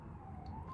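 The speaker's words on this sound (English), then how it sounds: "sorry about the sirens in the background" A faint, distant city siren holds a steady wailing tone over low background rumble, heard only briefly.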